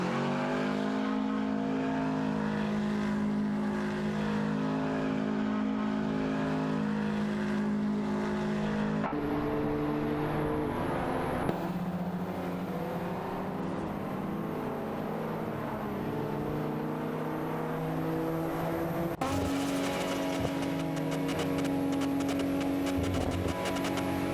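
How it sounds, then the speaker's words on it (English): A Ferrari race car in a racing video game at the Imola circuit gives a steady, loud engine drone that shifts pitch now and then, running continuously with no talk. "I am currently in 35th place, driving a Ferrari behind Human Cipher."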